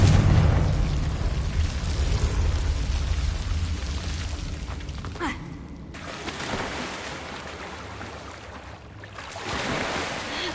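A Confringo blasting spell from Hogwarts Legacy explodes with a deep, rumbling boom that rolls off over several seconds, followed by a second blast and lingering crackling debris.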